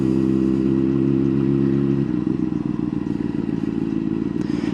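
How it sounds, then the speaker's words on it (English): A motorcycle engine idles loudly and steadily, then is blipped into a sharp rev that settles into a rough, rapid pulsing rumble close by, with no talking. "They want a little rev bomb."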